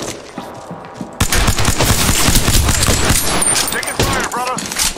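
Rapid gunfire in the video game Apex Legends erupts after a quieter opening, with loud, dense overlapping shots and bursts sustained to the end.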